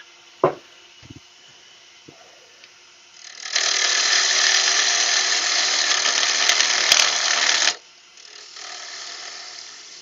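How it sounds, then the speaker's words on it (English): A few light clicks, then a small hand drill whirs steadily into wood, boring a roughly 1.5 mm hole for about four seconds before stopping; a softer hum follows. "I'm going to drill a little hole in there for the eyelet to screw into"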